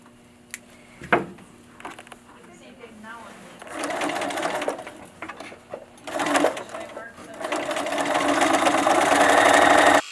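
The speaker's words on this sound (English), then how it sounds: "We move the needle one position over to the left because we don't want that previous stitching to show through on the new seam" A sewing machine stitches a seam through three layers of upholstery fabric for a wingback chair arm cover, running in short bursts that lengthen into a loud steady whir, with someone talking between runs.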